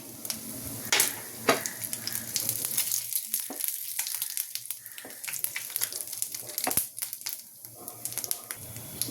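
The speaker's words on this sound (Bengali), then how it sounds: "জিরে ফোড়ন দিলাম" Cumin seeds crackle and sizzle in hot oil just after shrimp were fried, with sharp popping bursts over a steady hiss, close and fairly loud throughout.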